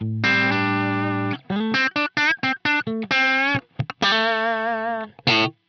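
Electric guitar played through a Line 6 Helix Interstate Zed amp model into a 212 Interstate cabinet: a long sustained distorted chord, then a string of short choppy stabs and another held chord, loud and dry with no talking.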